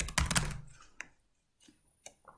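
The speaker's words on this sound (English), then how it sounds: "Type in my email address to send it to me." Typing an email address on a computer keyboard: a quick burst of close key clicks at first, then a few sparse single taps spaced apart, quiet with no talk.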